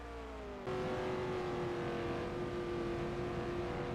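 A 1978 USAC race car on the Indianapolis 500 time-trial run, its engine a steady loud high-pitched drone that jumps up sharply in level early on and holds a sustained note.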